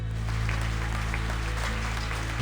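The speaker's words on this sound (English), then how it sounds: "Applause ring out." Applause in the video game Reverse 1999, a steady, dense wash of clapping that holds at an even level over a low, continuous musical drone, with no voices.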